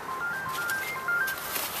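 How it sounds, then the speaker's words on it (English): Mobile phone ringtone chirping in a quick rising and falling sequence of short electronic tones outdoors at an allotment vegetable plot, clear and fairly close. "There goes my phone, great stuff."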